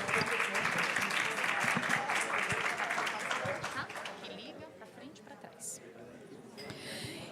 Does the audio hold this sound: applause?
yes